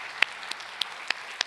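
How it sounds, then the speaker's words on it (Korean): A handful of sparse, separate hand claps from a church congregation during a Sunday worship service, about five sharp claps spaced unevenly over a second and a half against a quiet room. "우리 옆 사람을 보면서 다시 한번 격려의 박수를 한번 좀 옆 사람을 보면서"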